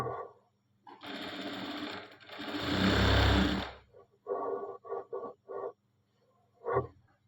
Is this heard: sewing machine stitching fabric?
yes